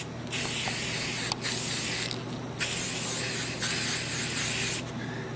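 Black primer sprays from an aerosol can in several long hissing bursts separated by brief pauses, loud and close, with no voices.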